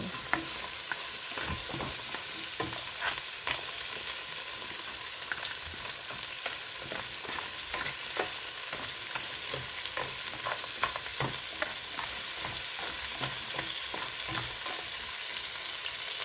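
Large crabs being sautéed in a pan sizzle steadily while a utensil stirs and scrapes in repeated clatters, close and continuous.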